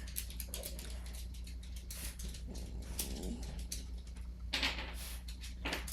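A dog paces back and forth indoors, its claws tapping faintly and irregularly on a hard floor over a low steady hum.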